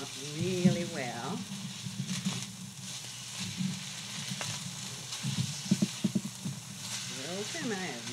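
Savory garlic cooking cream is stirred into simmering hamburger goulash in a pot, with scraping, clicking spoon strokes and a soft sizzle. A voice talks intermittently over the mixing.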